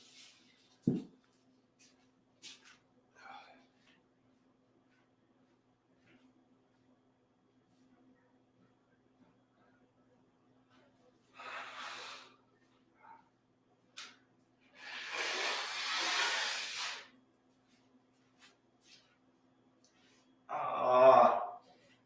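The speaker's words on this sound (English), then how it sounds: "I think I need to blow my nose after that tincture." Mostly quiet, then a few short, noisy, breathy blasts of someone blowing their nose, the last one loudest and closest.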